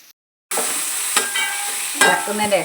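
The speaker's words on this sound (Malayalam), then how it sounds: "സവാള നല്ലപോലെ വഴറ്റിക്കൊണ്ടിരിക്കുക ഇഞ്ചി വെളുത്തുള്ളി പച്ചമുളക് പേസ്റ്റ് ആക്കിയത് അതും കൂടി ഇനിട്ട് കൊടുക്കാം" Onions sautéing in a pan with ginger, garlic and green chili paste added, a steady close sizzle with stirring scrapes and clinks after a brief silent start.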